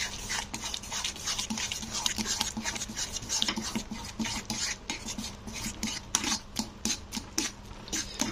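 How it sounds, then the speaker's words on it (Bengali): Rice flour is stirred into boiling water in a pot, making quick repeated scraping and knocking strokes up close, with no talk. "তো আমি অল্প দিয়ে এবারে এটাকে নাড়তে হবে।"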